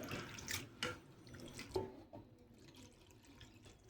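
Water splashes over flattened rice (poha) being washed in a bowl, with faint, intermittent pours and drips that trail off into quiet.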